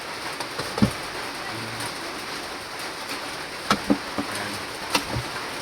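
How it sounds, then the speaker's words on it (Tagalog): Rain pours down steadily as a constant soft hiss, with a few scattered sharper drips and taps landing on nearby surfaces. "napakalakas ang ulan dito ngayon guys"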